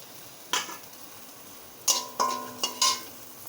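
Fried tomatoes, garlic and green chillies are lifted out of hot oil with a utensil, giving a few separate scrapes and clinks against the pan over a faint background sizzle, close and moderately loud.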